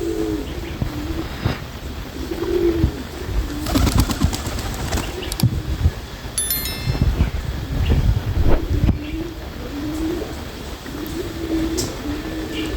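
Farm pigeons around a water dish coo in repeated low, rolling calls, with wind buffeting, rustling and clatter in between, close and fairly loud throughout.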